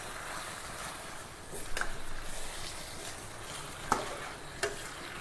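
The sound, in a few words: chicken being stirred and frying in oil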